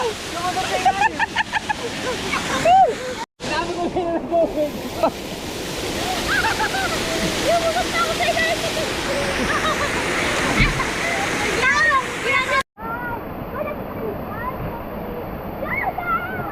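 A waterfall pours down in a steady, loud roar of rushing water, used by people as a natural massage, with voices faintly present beneath the continuous wash.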